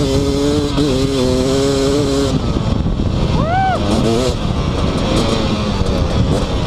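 A KTM 250SX two-stroke dirt bike on a rocky mountainside, its engine loud and close, climbing and falling in pitch through several revs with a brief rising wail, while someone speaks beneath the noise.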